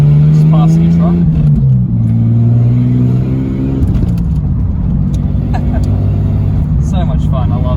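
A 32-year-old Ford with a six-cylinder engine accelerates hard to pass a truck, a loud close engine rising and falling in pitch with a steady rumble and road noise. Someone talks over it.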